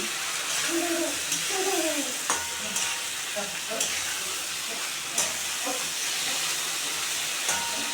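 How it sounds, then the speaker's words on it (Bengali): Okra with green chilli and garlic sautés lightly in a pan, a steady close sizzle and hiss broken by scraping stir strokes, no speech. "এখন এগুলো দিয়ে কষাবো খুব বেশি কষালে কেটে হয়ে যাবে আমি হালকা করে কষাবো"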